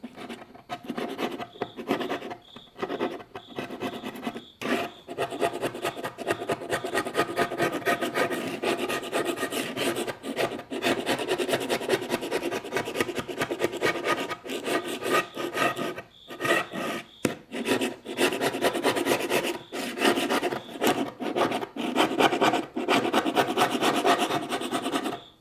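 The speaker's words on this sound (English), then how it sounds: "this scraper is so nice" A hand scraper rasps across wood veneer in quick, repeated close strokes with short pauses between bursts, dry and scratchy.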